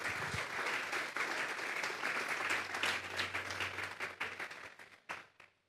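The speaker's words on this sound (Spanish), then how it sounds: "Démosle un fuerte aplauso pues al Señor." A church congregation breaks into loud, sustained clapping that fills the hall for several seconds, then thins out and fades toward the end, with no speech over it.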